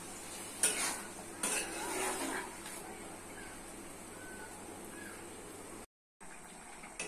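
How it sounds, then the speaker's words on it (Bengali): Chana dal, masoor dal and potatoes are stir-fried in a pan with a steady soft sizzle, a few scraping strokes of the spoon near the start, then a brief dropout before the sizzle returns. "ছোলার ডাল দিয়ে ভালো করে কষে নিতে হবে"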